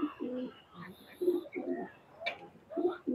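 A pair of golden Pakistani highflyer pigeons in a loft coo up close, giving several low, throaty rolling coos in an uneven rhythm with short pauses between them.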